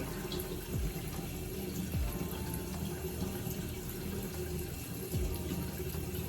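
Tap water runs steadily into a sink while a face is washed with cleanser, a continuous close splashing hiss with a few brief wet swishes as the hands move.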